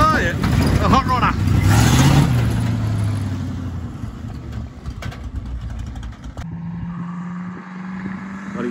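A newly finished home-built hot rod on its first test drive, engine note rising and falling loudly at first, then settling to a steadier drone, with people talking over it throughout.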